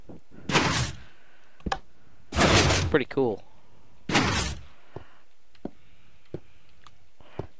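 Minecraft Beta 1.7 piston gate opening and closing in the video game, three loud hissing mechanical bursts in sequence followed by scattered small clicks, with a brief spoken comment between them.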